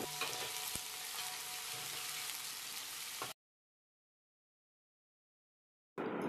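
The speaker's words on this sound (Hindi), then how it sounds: "अब हम प्याज को हल्की ब्राउन होने तक फ्राई करेंगे।" Sliced onions fry in a pan with a steady, close crackling sizzle for about three seconds, then cut to silence before the sizzle briefly returns, with no voices.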